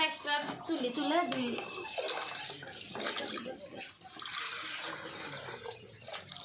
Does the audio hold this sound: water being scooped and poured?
yes